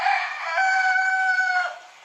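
A rooster crows once, a single loud, close call with a rising start, long sustained middle and a falling tail-off, heard alone without talk.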